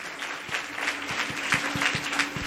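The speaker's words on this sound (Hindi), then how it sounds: "आइए हम भी आनंद मनाए तालियों के साथ।" Church congregation clapping during a worship service, a rhythmic, fairly soft beat of hand claps in steady time under a faint wash of background sound.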